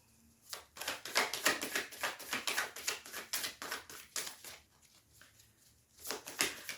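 Tarot cards shuffled by hand in a quiet room, a close run of rapid riffling bursts for several seconds, a short pause, then another quick flurry of shuffling.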